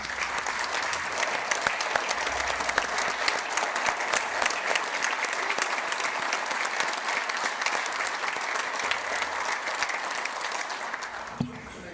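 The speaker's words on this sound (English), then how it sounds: "Let's give them a round of applause" Applause welcoming the Girl State Governor in the South Dakota House chamber: a steady, dense round of clapping from a standing crowd, sustained for several seconds before fading.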